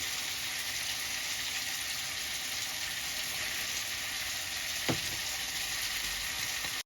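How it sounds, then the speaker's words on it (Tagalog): Tofu sizzles steadily in a hot pan, a constant, even hiss of frying oil that carries on with no voice over it, broken once by a faint, brief tap. "Ito na po ang piniritong tokwa."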